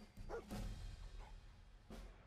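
Dogmeat, the German Shepherd companion in Fallout 4, gives a few quiet, short barks and yips, faint and a little distant, with no talk.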